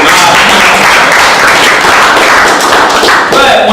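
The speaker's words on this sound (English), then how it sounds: "You can go ahead and clap for that." An audience at a North Carolina speech applauds and claps loudly and steadily, a dense crowd sound filling the whole stretch without letting up.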